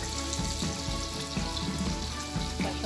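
Sylheti jaggery sandesh frying in hot oil, a dense, steady sizzle and bubbling that fills the whole stretch without pause, close and fairly loud, with no talking.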